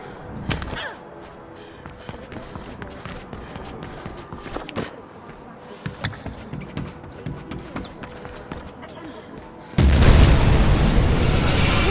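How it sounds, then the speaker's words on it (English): A sudden loud explosion erupts near the end in the video game Mirror's Edge Catalyst, a dense roaring blast that follows scattered footsteps, thuds and impacts. "Big explosion over here!"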